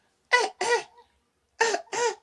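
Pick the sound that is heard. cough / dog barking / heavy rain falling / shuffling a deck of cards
cough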